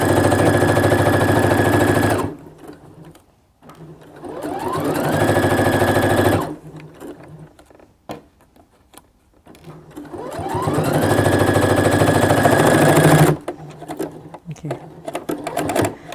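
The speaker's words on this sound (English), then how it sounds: "That's the sound of a sewing machine that is stressed because of the texture of our fabric." A sewing machine stitching thick fabric runs in two long, steady bursts, straining with a heavy, rattling hum and rising whir, pausing between runs.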